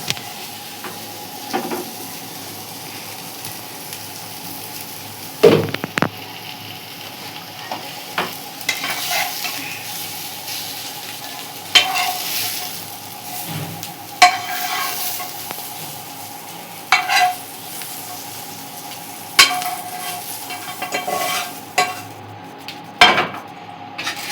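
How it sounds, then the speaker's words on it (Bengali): Chicken fries with browned onions in a pan, stirred steadily. A constant sizzle runs under repeated metal spatula scrapes and sharp clanks against the pot every few seconds. "পেঁয়াজটা আমার অলমোস্ট ভাজা হয়ে গেছে, এবার আমি এই চিকেনটার মধ্যে দিয়ে দেব"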